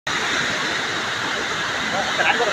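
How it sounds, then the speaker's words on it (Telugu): Water from the full Pincha dam, swollen by heavy rain, rushes forcefully through the gates as a loud, steady, broadband roar that holds unchanged throughout, close and dominant. "ఓపెన్‌లో ఉన్న గేట్ నుంచి వాటర్ ఎలా వస్తున్నాయో చూడండి."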